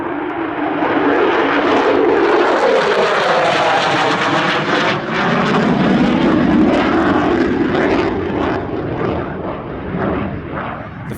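A RAAF F-35 flies its airshow display at Shellharbour, and its jet roar stays loud and continuous throughout, rising and sweeping in pitch as the aircraft passes by overhead.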